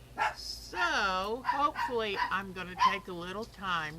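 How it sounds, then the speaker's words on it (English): Several excited dogs at home barking and whining in rapid overlapping yips and howls, loud and close, while someone talks over them. "Sorry about the dogs."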